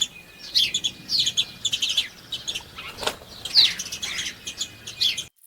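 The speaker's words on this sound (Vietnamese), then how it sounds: "Chim sẻ." Sparrows chirp and twitter in quick high bursts of tweets over about five seconds, close by, with a faint flutter in the middle and no talking.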